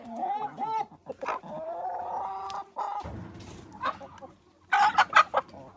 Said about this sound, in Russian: Куры сейчас с удовольствием их съедят.